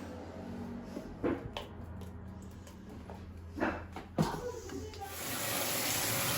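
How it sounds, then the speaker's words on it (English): Water splashes and sloshes in a bathtub as a wicker shelf is washed, with irregular squishy thumps and scrubbing bursts over a running-water background that swells toward the end; no clear speech. "I'm going to wash it in the tub"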